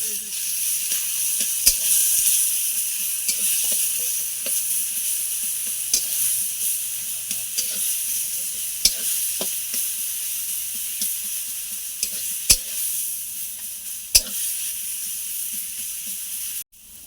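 Ridge gourd with sugar and chili powder sizzles in a hot pan, a steady bright hiss from the frying, with occasional sharp clacks from stirring.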